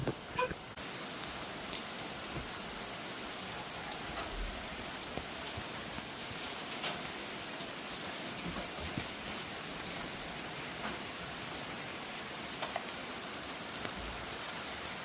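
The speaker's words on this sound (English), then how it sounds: "The rain was really falling heavily at this point" Steady heavy rain in Kuching, Borneo, hisses continuously, with scattered drips and patters hitting nearby surfaces, fairly soft and even throughout.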